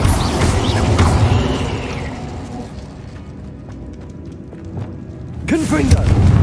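Incendio fire spell cast in the Hogwarts Legacy video game, a burst of rumbling whoosh and crackle that fades over a few seconds, then a sharper flare near the end.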